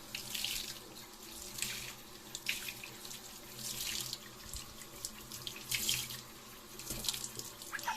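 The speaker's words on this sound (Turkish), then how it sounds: "Şimdi ben burayı durulamak istiyorum." Water runs steadily from a tap to rinse cleaned tile grout, a continuous splashing wash with slight surging, close and fairly loud, with no voices.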